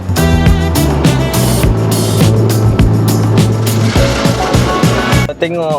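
Brushes of an automatic car wash churn and slap against a car, loud and close, with rhythmic thumping and a mechanical hum, and a person speaks briefly near the end.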